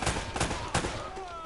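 Gunfire in Uncharted: Drake's Fortune, several loud shots in quick succession, with a busy, dense game soundscape filling the gaps.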